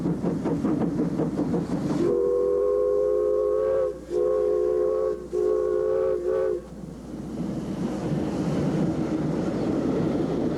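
A locomotive on an international railway line at the end of the line sounds a loud multi-tone horn in several blasts, set against steady rumbling train noise.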